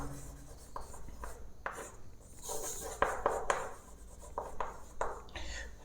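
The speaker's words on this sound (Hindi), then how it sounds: "तो आप एक लाइन लिख सकते हैं" A pen writes a line of chemistry notes in a quiet room, making soft scratchy strokes in short bursts with brief pauses between them, close and faint.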